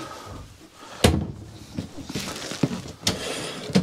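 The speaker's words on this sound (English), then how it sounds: "Another really nice deep pull-out drawer for storage right under the bed." A deep pull-out storage drawer under the bed of a 2024 Forest River Flagstaff E-Pro E19F camper, sliding with several sharp knocks and thuds close by, about four in a few seconds.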